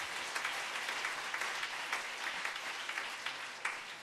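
A church congregation at a Sunday evening service applauds, dense sustained clapping from many hands filling the room evenly for the full few seconds.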